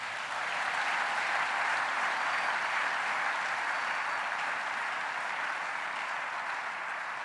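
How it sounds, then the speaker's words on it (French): A church congregation applauds at a Sunday service, with steady, sustained clapping that stays loud and even throughout and no voices standing out. "Est-ce qu'on peut l'acclamer?"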